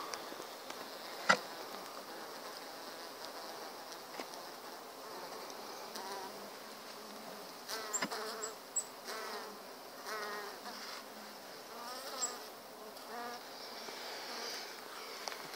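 Honeybees buzz steadily around an open top bar hive during an inspection, a dense, continuous hum with individual bees droning close by now and then.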